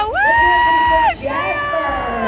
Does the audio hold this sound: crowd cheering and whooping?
yes